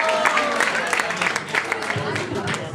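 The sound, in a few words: audience applause for a group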